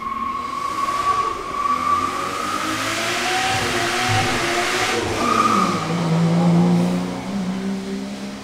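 A Nissan D22 pickup passes nearby, its engine revving and climbing through gears with a steady whine, moderately loud and growing closer before fading outdoors.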